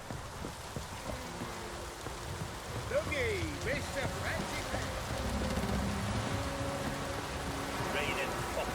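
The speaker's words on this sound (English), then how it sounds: "Raining fucking buckets." Steady heavy rain hisses throughout in The Witcher 3, with voices talking over it and scattered low thuds and tones in the background.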